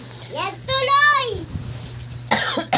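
A small child coughing, with harsh bursts breaking between the child's wavering, sing-song vocal sounds, close and fairly loud.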